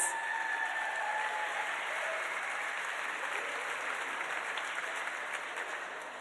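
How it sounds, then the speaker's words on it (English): Steady, dense applause from an audience at an annual charity benefit dinner, sustained throughout and slowly tapering toward the end, with no speech over it. "A big applause for Lynn Schwartz."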